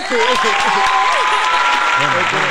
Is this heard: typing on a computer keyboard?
no